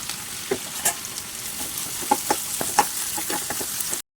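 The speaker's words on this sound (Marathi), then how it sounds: "कांदा तळून घ्यायचा आहे" Chopped onions fry in oil in a pan for egg biryani, a steady sizzle broken by several sharp crackles and scrapes, close and fairly loud with no voices.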